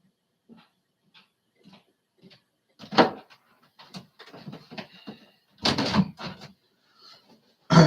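Light scattered knocks and taps on a house door as a cat bumps against it, then a louder rattle and clatter of the door being opened, with faint soft sounds between.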